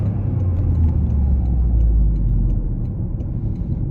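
Interior drone of a Toyota GR Corolla with a manual clutch as it drives: a smooth, steady low engine and road rumble, fairly loud, that eases slightly near the end, with no talking.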